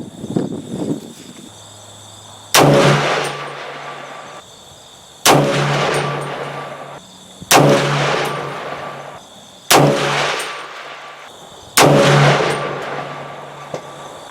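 Five loud rifle shots from a 300 Blackout firing 110gr Lil Gun hunting loads at a range, spaced about two seconds apart, each a sharp crack with a ringing decay, with faint insect chirps in the background.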